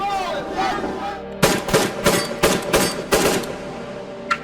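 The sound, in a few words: gunshots in a Brooklyn street shooting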